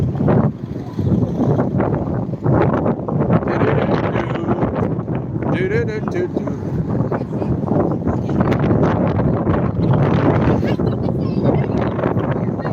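Strong, steady cold wind buffets the microphone at an outdoor protest in Ballymun, a constant low roar under intermittent talking.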